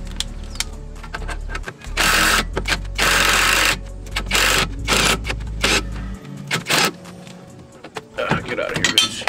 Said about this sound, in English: So let me go get my impact because it was dead.